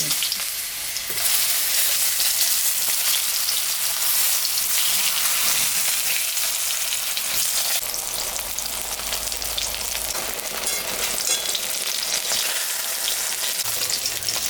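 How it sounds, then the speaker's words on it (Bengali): Eggplant slices fry in hot oil in a pan for a Bengali tangra fish curry, giving a steady, dense sizzle with faint crackles that runs close and loud throughout, with no voices. "তাই বেগুনটা আমি একটু ভাজে নিই।"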